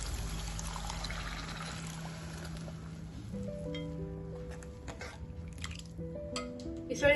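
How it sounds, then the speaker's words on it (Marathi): Water from boiled moth beans is poured into a pot of misal curry, a soft gurgling trickle followed by drips and faint kitchen clatter, fairly quiet and close. "आता आपण हे मटकी उकळलेलं पाणी जे होतं ते आता आपण याच्यामध्ये टाकून घेणार आहोत"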